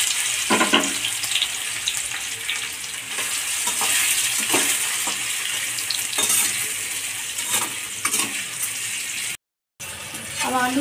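Boiled potatoes frying in hot oil in a kadai give a loud, continuous close sizzle, broken by repeated scraping stirs and a brief gap of silence near the end.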